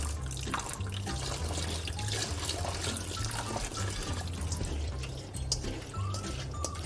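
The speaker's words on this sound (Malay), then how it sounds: "Selepas tu kita siram dengan air filter" Filtered water splashes and trickles while bubble tea is rinsed and stirred, a continuous close wash of running water with small drips and gurgles and a low rumble underneath, with no talking.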